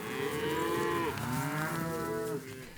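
A herd of cattle moo loudly and repeatedly, several overlapping bellows at once, as cows come off a highway into their winter pasture during a roundup and sorting.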